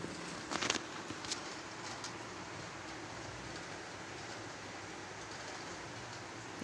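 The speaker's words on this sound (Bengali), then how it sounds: "এই রাতের বেলা দেখুন কত ঝড় বৃষ্টি হচ্ছে, আওয়াজ নিশ্চয়ই শুনতে পাচ্ছেন।" Stormy night rain falling steadily, a dense, even hiss of patter with a few brief louder splashes or knocks early on, heard alone at a moderate distance.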